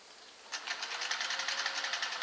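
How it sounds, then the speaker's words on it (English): A Singer 503A sewing machine starts up and runs at a steady pace, its needle bar and spinning hook making a close, rapid mechanical chatter. "the needle bar will just now go up and down. Hook spinning."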